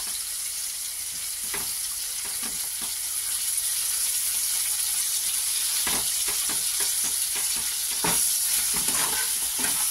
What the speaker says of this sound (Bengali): টমেটোটাকে একটুখানি ভেজে নিই